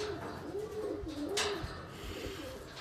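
A racing pigeon, just back from a 300 km spring race, coos while held in the hand, a soft warbling series of rising and falling notes close by, with light handling rustles and a brief sharp noise.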